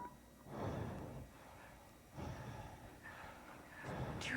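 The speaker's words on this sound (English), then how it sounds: "Breathing. Who breathes like that?" Eerie, heavy breathing heard from outside a door, slow rasping breaths in three or four swells separated by short pauses, moderately close and unaccompanied.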